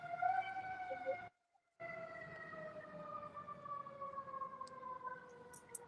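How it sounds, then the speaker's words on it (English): A fire truck siren wails on a downtown Baltimore street, a long, slowly falling tone that cuts out briefly and then resumes, faint and distant with no talking. "I know what siren that was. That was a fire truck."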